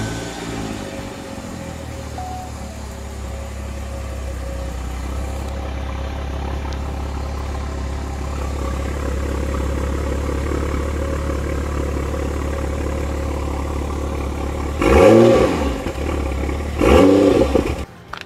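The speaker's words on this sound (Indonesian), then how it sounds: "tailpipe-nya pun diganti dan suaranya pun langsung berubah" A luxury car fitted with a replacement aftermarket tailpipe exhaust idles with a steady low drone, then gives two short loud revs near the end.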